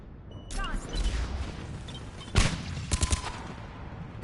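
Gunfire from a battle in the video game Mass Effect 3, with bursts of shots and a heavier blast midway, mixed with game noise and indistinct voices in the background.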